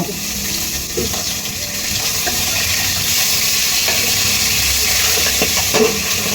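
Pangas fish sizzles loudly in a hot pan in a home kitchen, a steady, dense frying hiss with faint stirring clicks and pops and no talking.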